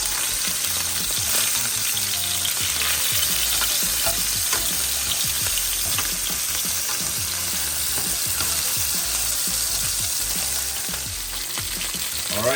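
Salmon bites frying in hot oil in a pan, a loud, dense, continuous sizzle and crackle that holds steady throughout.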